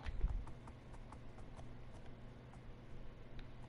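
Donkey hooves clip-clop in a steady, quick rhythm as the animal runs across terrain in Minecraft, with a louder thump at the start and fairly faint, even steps after.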